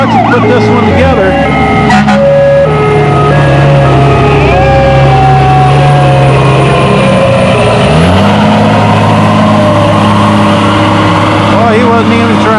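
A tractor-pulling vehicle built from two fire trucks, around 600 horsepower, roars loud and close with a droning engine tone that shifts pitch as it labors down the track, with an announcer talking over it.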